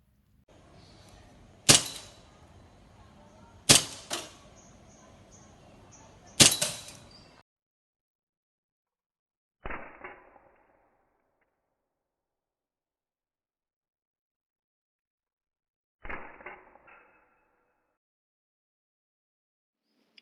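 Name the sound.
Tanfoglio Witness 1911 CO2 air pistol shots fired outdoors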